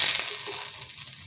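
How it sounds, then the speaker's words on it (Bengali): Dried red chillies, bay leaves and cumin seeds hit hot oil in a kadai for a crab curry, giving a brief bright hissing sizzle with a few small crackles, close and alone. "এখন এটা সুন্দর করে ভাজা করে নেব।"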